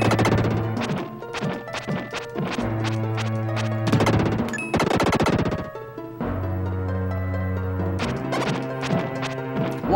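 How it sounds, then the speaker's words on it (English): An enemy fires lasers in the SNES game Illusion of Gaia: loud, repeated sharp electronic zaps and crashing hits in fast bursts over bright, sustained game music. "he's shooting lasers now?"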